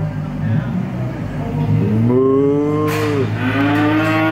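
Cattle on a farm give a long, loud, close moo that rises and bends in pitch over a constant low engine-like hum, with people talking nearby.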